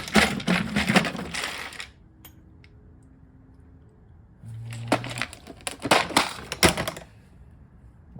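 Metal bolts clink and tap in short scattered bursts as they are picked out for a rusty Ford F250 truck bed repair, with a quiet pause between the two clusters of rattling.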